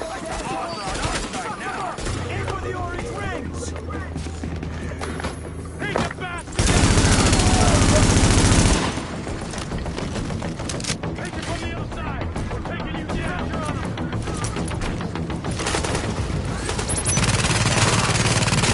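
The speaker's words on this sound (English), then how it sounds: "With all that gunfire drawing the Riker's attention, you're gonna have a nice fat bullseye on your back." Gunfire in the video game The Division: bursts of rapid automatic shots and scattered single cracks mixed with a loud continuous barrage in the middle, heard under steady spoken narration.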